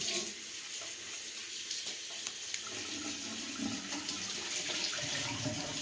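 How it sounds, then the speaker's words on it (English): Tap water runs steadily into a sink as a cloth is rinsed under the stream, a continuous close splashing wash with no talk. "And go ahead and rinse it out."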